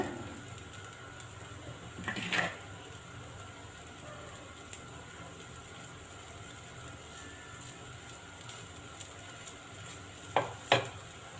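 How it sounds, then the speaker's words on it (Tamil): Garlic dosa fries in oil on a pan with a soft, steady sizzle, broken twice by brief scraping clatters of a utensil against the pan. "மேலோட்டமாக எண்ணெய் ஊற்றிட்டு கொஞ்சம் நேரம் வேகட்டும்."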